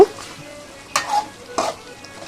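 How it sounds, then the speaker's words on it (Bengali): Duck meat bhuna, well fried with the oil risen to the top, is stirred in a pan with two distinct scraping strokes over a low, quiet sizzle. "আর একটু ভালো করে নেড়ে চেড়ে দেব"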